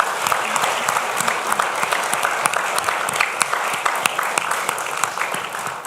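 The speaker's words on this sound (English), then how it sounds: "Let's give them a round of applause, ladies and gentlemen." Lively audience applause at a youth symposium, a dense crowd clapping continuously with sharp individual claps standing out near the front.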